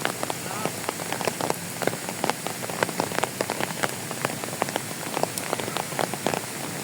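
Steady rain patters on a surface at a zoological and botanical garden in Hong Kong, a dense mix of drips and taps continuing without pause.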